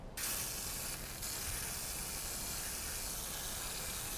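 Gravity-fed airbrush with the cup mounted on top spraying Testors paint onto a Saturn V model, a steady continuous airy hiss that starts abruptly and runs unbroken, close and fairly loud.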